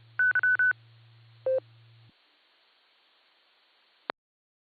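DTMF keypad tones dial out over a ham radio repeater phone patch: a quick burst of four touch-tones, then a single tone a moment later, over a steady low hum that cuts off before a sharp click.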